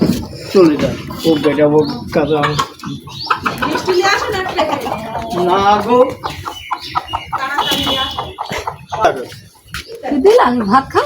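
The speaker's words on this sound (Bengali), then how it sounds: "মোরগ মুরগির ডাক, এগুলো শুনতে কিন্তু অনেক বেশি ভালো লাগে" Rooster and hens cluck in a dewy village garden, their calls mixed in with near, continuous conversation between people.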